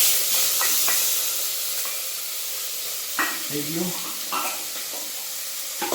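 Asafoetida, star anise, cloves, cinnamon, curry leaves and tomato sizzling in hot oil for a tempering, a steady hiss with stirring clinks, while someone speaks briefly over it.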